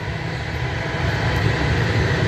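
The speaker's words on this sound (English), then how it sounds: "Got a coal train running by." A coal train rolls past on a busy stretch of railroad tracks, a loud, steady low rumble and grinding roar of wagons that holds constant and swells slightly toward the end, close by with no talking.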